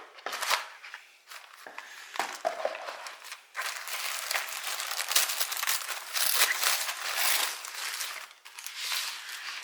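Packaging inside a Bellabox beauty subscription box crinkles and rustles close by as it is opened, in irregular bursts of paper and plastic handling with brief pauses between them.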